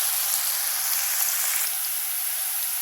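Chopped onions sizzle in hot oil in a pan, making a steady, bright, continuous frying hiss throughout with no talking.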